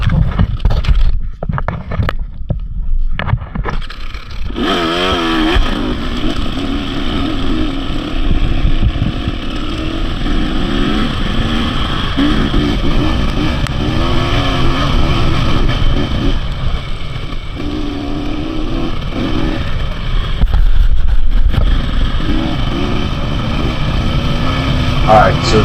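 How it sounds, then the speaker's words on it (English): Motorcycle engine revving and droning steadily on a slick, deeply rutted muddy trail in Costa Rica, throttle rising and falling as the bike slides, with wind buffeting the microphone throughout. "I'm rolling on the throttle, and I just start sliding from side to side"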